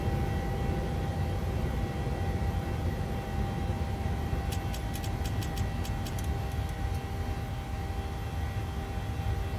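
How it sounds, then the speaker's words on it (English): An airplane flies in a flight simulator game with a constant broadband engine and wind roar. A brief burst of rapid high clicks sits partway through, and no one speaks. "I am manually flying the airplane"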